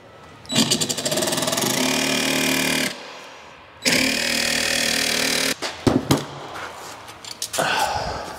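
A jigsaw cuts an entry slot in a metal electrical MCCB panel in an industrial unit. It gives loud, steady buzzing runs of a few seconds each, separated by a short pause, then choppy stop-start bursts before a final run.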